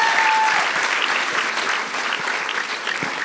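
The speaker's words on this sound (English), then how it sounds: "Give him a big round of applause, it's less awkward." Awards audience clapping at a national grand final, a brisk wash of applause that fills the room at full strength for a few seconds.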